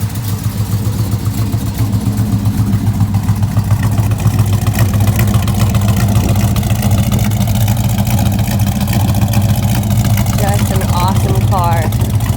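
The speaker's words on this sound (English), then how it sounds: "Take it around so you can hear from the tailpipe." The 8-cylinder engine of a 1964 Plymouth Fury Sport rumbles steadily through its exhaust while driving, a loud, close, low throb with engine hum, and someone talks over it.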